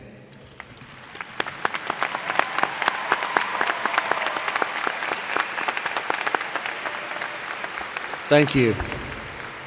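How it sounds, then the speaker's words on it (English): A commencement audience applauds faculty and staff in a large hall, a steady, dense roar of clapping sustained for several seconds before a brief spoken thanks near the end. "please join me in recognizing them with your applause for their contribution"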